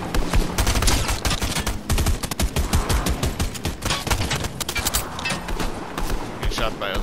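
Rapid gunfire from a multiplayer video game shooter, dense bursts and single shots rattling continuously throughout, with players talking over the shooting.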